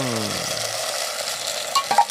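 Sardines with papaya and moringa stirred in a pan over a constant sizzle, a low tonal hum fading at the start and a couple of brief metallic clinks near the end.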